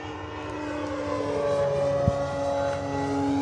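A 1600mm radio-controlled PT-17 Stearman model biplane on a 22.2-volt electric setup flies through a roll, its motor giving a steady, sustained whine with a single sharp click midway and no talking.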